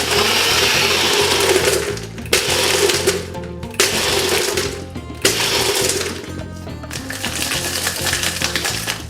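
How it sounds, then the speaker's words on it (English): A loud, whirring NutriBullet blender motor runs in several short bursts, cutting out briefly between pulses, with a rattling grind throughout. "There's my lovely NutriBullet, which I highly recommend if you don't have one."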